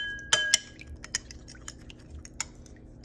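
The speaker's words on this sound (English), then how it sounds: "And then I have a spoon so that we can stir that all up and mix that up." A spoon clinking against a bowl while stirring seasoning such as onion powder into meat: sharp metallic taps and scrapes at an irregular pace, close up, with no speech.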